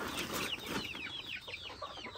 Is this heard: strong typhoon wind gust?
no